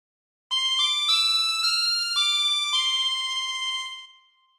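Harmonica plays the closing phrases of the Star Spangled Banner, a bright reedy melody of about eight clear notes moving at a steady pace, alone and close, ending in a held note that fades out.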